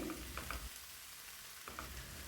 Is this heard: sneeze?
no